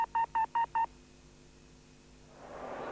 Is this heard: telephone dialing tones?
yes